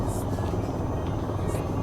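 An AH-94 helicopter in a video game thrums with a loud, continuous rotor and engine drone, steady and close, while a voice talks over it.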